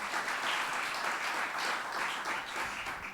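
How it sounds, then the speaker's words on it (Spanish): An audience applauds at a church talk, dense steady clapping that holds through the clip at moderate distance before easing slightly at the end. "den un fuerte aplauso a la introducción."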